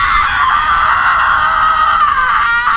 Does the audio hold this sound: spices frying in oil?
no